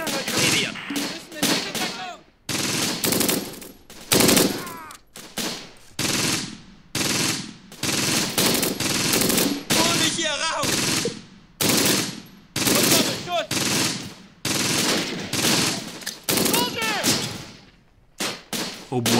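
Machine gun and rifle fire rattle in a WWII strategy game battle near Caen, with repeated loud bursts of rapid shots broken by short pauses, a sustained, dense exchange with no voices.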